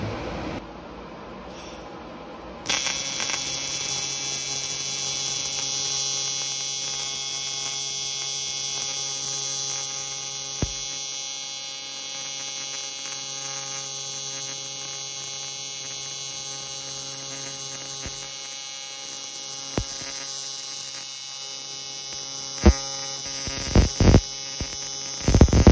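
Tack welding aluminum during a turbo Honda Civic build, a steady loud electrical buzz and hum that runs for most of the stretch with a few sharp crackles near the end, no speech.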